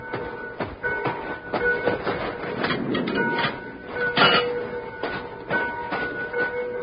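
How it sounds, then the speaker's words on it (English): Freight fruit train of sealed cars rolling along the rails as a radio drama effect, a steady rumbling clatter with rhythmic wheel clicks, moderately close and without voices. "This is a fruit train."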